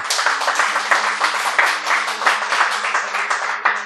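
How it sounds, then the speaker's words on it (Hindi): Loud, vigorous applause from an audience at a live poetry performance, dense rapid clapping from many hands that stays strong and continuous throughout. "माँ के लिए सबसे पहले एक जोरदार तालियां होनी चाहिए"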